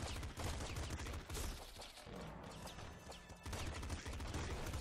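Laser rifle firing repeatedly in Nuclear Throne, rapid stuttering zaps layered over game music and explosions, continuous bursts with brief gaps, fairly busy and loud.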